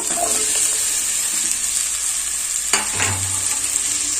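Chopped vegetables for egg fried rice frying in hot oil, a loud continuous sizzle with occasional stirring clatter and a short scrape near the end, no voices.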